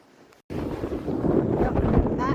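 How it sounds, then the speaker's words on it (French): Wind buffets a microphone outdoors on a sunny day after snowstorms, a loud broadband rumble that starts abruptly and keeps roaring steadily, with no talk. "Il y a un bon vent aussi."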